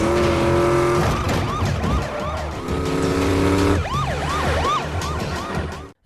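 A getaway car races off in a film chase with a police car in pursuit, engine roaring continuously under a wailing, sweeping siren, with tire noise and brief skids, loud and close throughout.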